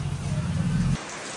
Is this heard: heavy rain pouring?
yes